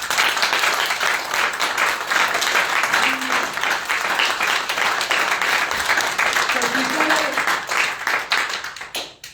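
Church congregation clapping loudly and steadily for the Lord throughout, a dense sustained wash of applause with a few voices faintly underneath, tapering off at the very end.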